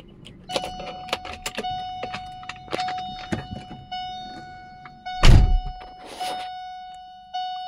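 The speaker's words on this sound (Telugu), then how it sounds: "ఇప్పుడు మనం వెహికల్ ఆన్ చేద్దామన్నా." A Chevrolet LS Sail being switched on: a series of clicks and thunks with a steady electronic tone, then a brief loud engine start burst near the end.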